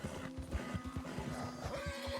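In Red Dead Redemption 2, a horse's hooves thud in quick, close rhythm while a short neigh or snort rises near the end, fairly quiet overall.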